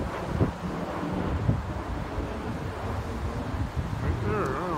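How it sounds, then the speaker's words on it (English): Strong wind buffets the microphone outdoors on a windy day, giving a continuous deep rumble and roar with gusty swells and a faint, indistinct voice underneath. "you know it's a really windy day"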